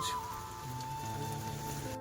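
Rain falling around a house at a fair in Baripada, heard as a steady, even hiss over a continuous low hum, with no breaks across the short stretch.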